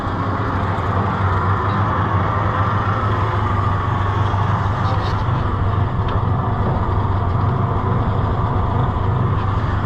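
A Massey Ferguson 50 tractor engine idling, a steady loud low diesel drone with a constant throb that holds evenly throughout and has no talk over it.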